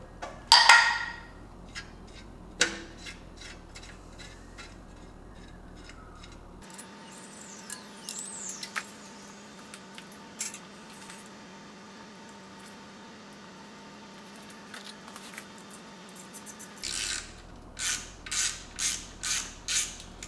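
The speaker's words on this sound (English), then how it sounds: "let's take these 3 bolts out real quick" Small 10 mm bolts come off the sump of a Toyota 2JZ engine with quiet scattered clicks, creaks and taps, ending in several short, rhythmic ratchet bursts close by; no one speaks.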